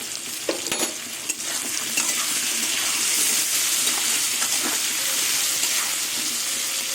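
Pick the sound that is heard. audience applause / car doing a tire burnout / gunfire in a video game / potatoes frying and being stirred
potatoes frying and being stirred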